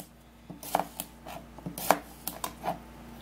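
A knife chops through cucumber on a cutting board in a quick, uneven run of close, crisp thuds, with no talking.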